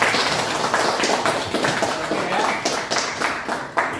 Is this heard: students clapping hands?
yes